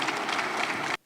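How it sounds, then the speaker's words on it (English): Audience applause at an award ceremony, a dense wash of many hands clapping steadily for about a second before cutting off abruptly. "when the taxman's name is mentioned, people clap"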